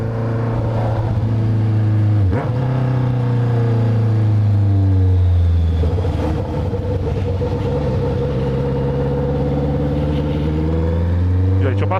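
A Honda CB650F motorcycle with a full stainless Atalla exhaust revs loudly up close, its engine note rising and falling in a sustained roar with a few sharp blips.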